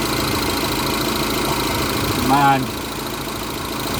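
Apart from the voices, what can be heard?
rebuilt Mini Cooper S N14 R56 engine idling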